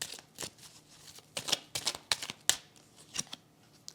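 A tarot card is turned over and set down during a card reading, giving a run of short, crisp papery flicks and slaps at close range, with no talking.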